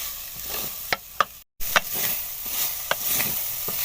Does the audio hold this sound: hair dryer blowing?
no